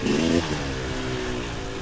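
A dirt bike engine with the throttle blipped, a brief buzzing rise in revs that quickly falls back to a steady idle-like drone, close and fairly loud.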